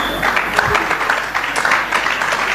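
An audience at a speaking event claps, a brief, moderately loud burst of many hands.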